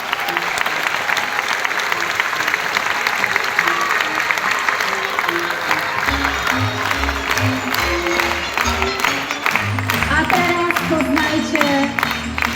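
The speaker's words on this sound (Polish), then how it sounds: "Jeszcze raz wielkie brawa dla chłopaków, Toli i dla wszystkich tancerzy" Amphitheatre crowd at a children's dance ensemble's outdoor concert finale applauds the performers and dancers, sustained loud clapping with some cheering while voices and music carry underneath.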